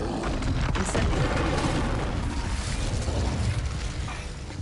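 A loud, rumbling, crackling burst of fire from the Incendio spell in a video game, roaring densely at first and tapering slightly over a few seconds.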